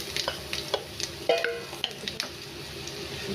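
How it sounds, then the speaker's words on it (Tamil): Curry leaves fry in hot oil with a constant close sizzle, broken by stirring scrapes and light taps against the pan. "இது கூடவே கொஞ்சமாக கருவேப்பிலை நல்லா ஃப்ரை."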